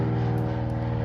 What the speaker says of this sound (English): wait for the plane to fly by.